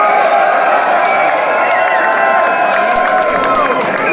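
A thrash metal club-show crowd in Novi Sad cheers and whoops loudly and steadily, a dense roar of voices and scattered shouts filling the room.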